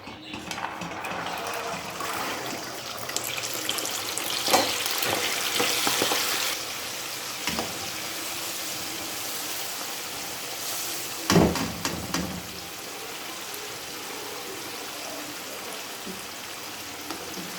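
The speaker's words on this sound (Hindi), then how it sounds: "हमारा कुकिंग ऑयल अच्छी तरह गर्म हो चुका है। अब हम इसमें चने डाल रहे हैं।" Chickpeas crackle and sizzle in hot cooking oil for chana namkeen, a steady moderately loud hiss with brief louder bursts of spatter and stirring scrapes, no voices.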